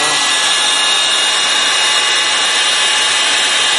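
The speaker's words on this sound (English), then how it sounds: "This is a heat gun. I put it on low," A heat gun set on low, used to melt encaustic wax, gives a loud, steady whooshing blast of fan and air that holds unbroken from start to end, with no voices.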